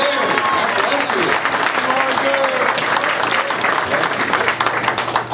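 Sustained audience applause at a stand-up comedy show fills the room, steady and dense throughout, with a few scattered voices and cheers mixed in.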